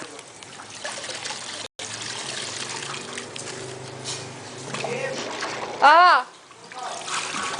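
Water trickles and splashes steadily nearby while a child plays, with a brief voice exclamation near the end.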